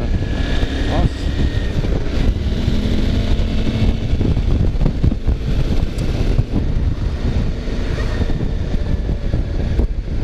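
Steady, loud buffeting wind roars continuously over the helmet microphone while riding a Suzuki V-Strom DL 650 on the road, with engine drone underneath.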